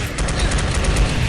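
A loud, close burst of rapid-fire phaser shots in Star Trek Voyager: Elite Force, the pulses hammering in quick, even succession with no gaps.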